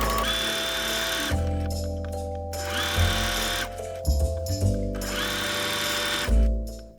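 A sewing machine stitches a straight seam on plaid flannel for a skirt, running in several close bursts separated by short pauses and clunks as the fabric is handled.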